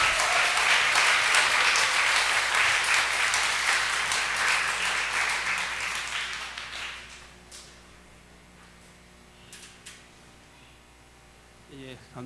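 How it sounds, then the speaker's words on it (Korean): A church conference audience applauds as a missionary speaker is welcomed: loud, dense clapping fills the room, then thins and fades to scattered claps and quiet room tone. "이명훈 선교사님 나오실 때 큰 박수 부탁드리겠습니다."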